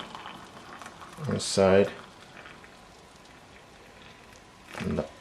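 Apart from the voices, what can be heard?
pouring hot water onto a Tetley tea bag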